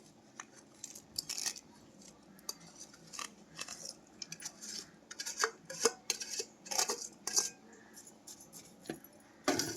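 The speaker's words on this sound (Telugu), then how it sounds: "బెల్లం వేసేసుకుంటున్నాను." Jaggery is added to cooked rice in a pot, with irregular metallic clinks, scrapes and taps of a spoon against the vessel, close and fairly quiet with no talking.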